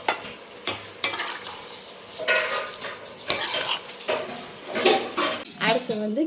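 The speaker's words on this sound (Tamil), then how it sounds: "நல்லா சிக்கனை நல்லா மசாலோடு சேர்த்து நல்லா அடியிலேருந்து நல்லா கிண்டி விடுங்க." Chicken is stirred with ground masala in a pan, a spoon scraping and clattering against the metal in repeated strokes over a soft sizzle, close and fairly loud, with no speech.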